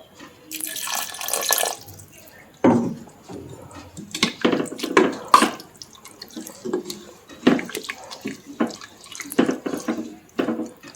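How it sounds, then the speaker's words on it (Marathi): Water splashes and trickles into a pan in short bursts, with clatter and scraping of a utensil between pours. "थोडंसं पाणी कमी वाटायला लागले, थोडंसंच पाणी घालते ह्याच्यात"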